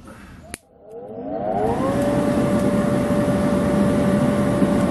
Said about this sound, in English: But turn the blower on.